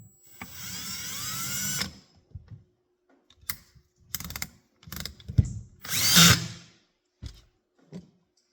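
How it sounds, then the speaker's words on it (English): A power drill drives machine screws in, with a long whirring run followed by several short bursts and clicks of the tool, close up with no talking. "Blast the screws in"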